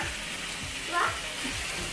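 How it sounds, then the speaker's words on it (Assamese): Meat cooking in a pan at home, a steady sizzle with a brief louder scrape of stirring near the middle, close and moderately loud, no talking. "মাংস বনি আছে এবাৰ লৰাই দিম লওঁ"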